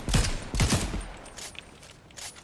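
Heavy AWP sniper rifle shots in Fortnite Battle Royale ring out as a few loud booming reports early on, followed by quieter game noise and fainter distant pops.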